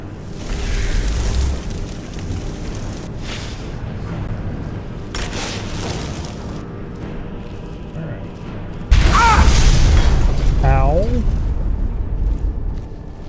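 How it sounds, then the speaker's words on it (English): An explosion in Skyrim Special Edition, a deep eruptive boom that swells into a loud rumbling burst, with a distorted, excited voice talking and exclaiming around it. "Why'd you explode?"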